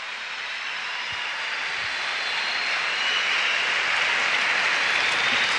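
A church congregation applauding, a steady, dense wash of clapping from many hands that holds throughout and swells slightly toward the end.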